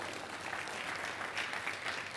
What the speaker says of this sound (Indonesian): Tepuk tangan bagi Allah kita dong.